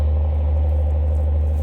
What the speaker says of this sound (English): I have a big dump truck going up the road, you can hear it.